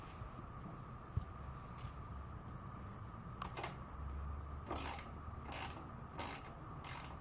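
Ratchet wrench tightening the oil drain plug on a Buell XB motorcycle, faint rapid clicking in several short bursts near the end, close by against quiet background hum.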